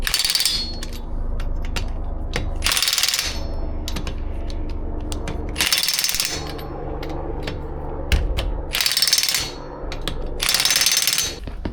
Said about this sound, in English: I'm going to run them down with my impact, but I'm going to set it on the lowest setting